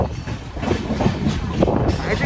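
The Mandavi Express runs on its rails with a steady rumble and rattle of the carriages, heard from on board as a continuous rolling noise.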